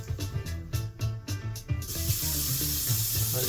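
Tap water runs into a pot for instant tteokbokki noodles, first with a few clanks and splashes, then a steady loud rushing stream as it fills.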